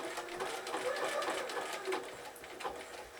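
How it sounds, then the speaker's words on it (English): A sewing machine stitching zig-zag appliqué for birthday bunting hums steadily in short bursts of rapid stitching close by, with brief pauses between runs and no talk. "I can keep just doing a few stitches, lift, turn, down, stitch"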